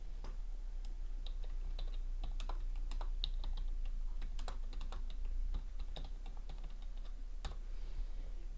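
Title text is typed on a computer keyboard as a run of light, irregular key clicks, close and fairly soft, over a low constant hum, with no voices.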